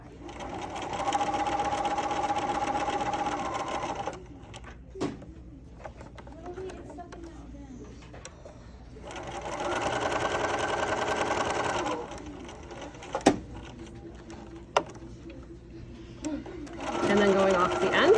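A sewing machine stitches a seam in two long bursts of fast, even mechanical whirring, held close, with pauses between runs and someone talking over parts of it.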